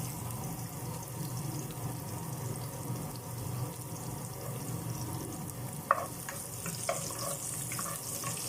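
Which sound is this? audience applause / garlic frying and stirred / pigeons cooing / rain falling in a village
garlic frying and stirred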